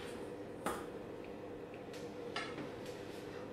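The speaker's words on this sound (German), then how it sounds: "Im Hintergrund hört ihr schon den Backofen." A kitchen oven runs with a low, steady background hum while cooking flatbread, faint and constant, with a few sharp clinks of dishes and utensils popping up over it.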